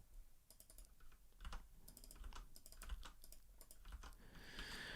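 Code being typed on a computer keyboard for HTML and CSS web design: quiet, close, steady bursts of key clicks with short pauses, and no one speaking.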